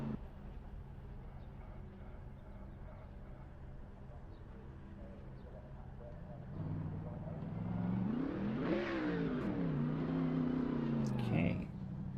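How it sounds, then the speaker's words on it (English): S5000 open-wheel race car in a sim-racing game, its engine droning steadily and then revving up in rising and falling sweeps toward the end, with a voice talking over it. "The S5000. You can hear it revving up from a mile away."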